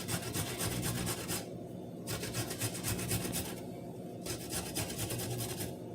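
Chilli ingredients rubbed back and forth on a hand grater, loud close rasping strokes in steady bursts separated by short pauses.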